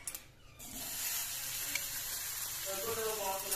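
Eggplant pieces fry in hot oil with salt, turmeric and chili powder, making a close, continuous sizzle that rises after a brief quiet start, with a faint voice in the background.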